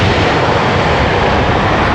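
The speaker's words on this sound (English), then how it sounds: "Let's get the airplane." A fixed-wing airplane passes overhead near LAX, its engine roar loud, broad and steady throughout, with no voices over it.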